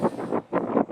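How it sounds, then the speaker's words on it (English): Gusty wind buffets a microphone beside a fishing lake, coming in rough, roaring bursts that swell and drop back in uneven pulses. "Sorry about the wind again"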